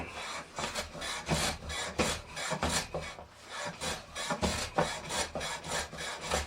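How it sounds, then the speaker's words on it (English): Repeated rasping strokes of a hand plane shaving wood, a steady rhythm of about a dozen close, scraping swipes with no talking. "The zip of the plane."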